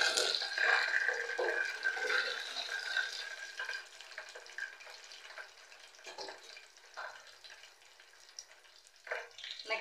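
Curry leaves crackle and sizzle in hot oil in a pan while being stirred, a bright steady frying hiss with brief scraping bursts of the stirring, close and loud at first then settling slightly quieter.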